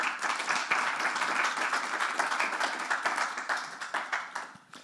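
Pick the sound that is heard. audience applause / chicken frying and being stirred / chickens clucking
audience applause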